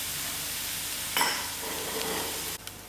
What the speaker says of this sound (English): And allow it to fry till it brown a little.